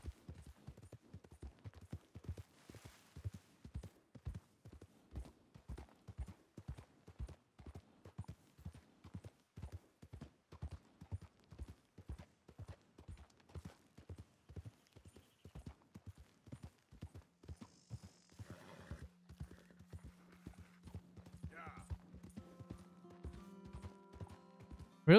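A horse is ridden at a steady pace in Red Dead Redemption 2, its hoofbeats clip-clopping in an even, continuous rhythm. Softer ambient game sounds rise near the end.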